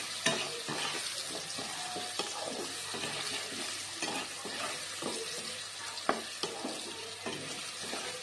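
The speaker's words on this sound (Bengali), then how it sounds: "মিষ্টি কুমড়োগুলো হালকা ভেজে রাখবো।" Pumpkin pieces fry lightly in a pan, with a bright, constant sizzle and sharp clinks of a spoon stirring and scraping now and then, heard close and alone.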